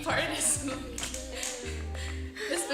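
Rhythmic hand claps mark the beat of a recorded Spanish song, sharp taps repeating over sustained melody and a singing voice, fairly close and prominent in the mix.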